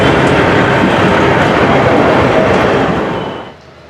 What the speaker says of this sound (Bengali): বন্ধুরা এই যে কামাখ্যা জংশন থেকে জাস্ট ট্রেন ছেড়ে বেরোচ্ছে